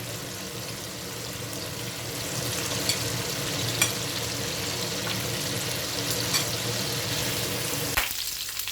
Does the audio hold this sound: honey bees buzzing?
no